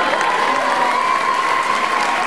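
Steady applause from an audience cheering prize winners at a 2011 dance competition in Rillieux-la-Pape, a dense continuous wash of clapping with a faint crowd murmur underneath, no voices standing out.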